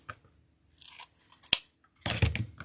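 Scissors snip a dovetail notch into the end of a wreath ribbon, a few close, crisp cuts with one sharp snap, alone.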